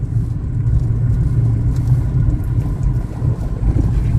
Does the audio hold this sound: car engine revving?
yes